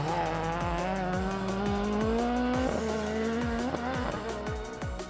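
A Ford Escort rally car at full power on the Donegal International Rally 2023. The engine howls close and loud, climbing through rapid repeated gear changes in a steady driving rhythm, with no voices over it.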